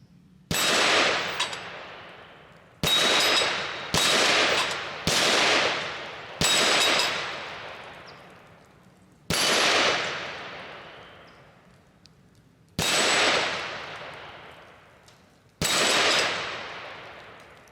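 Radical Firearms RF-15 rifle fired at steel plates outdoors: eight loud, sharp single shots at uneven intervals, each with a long ringing decay from the struck steel.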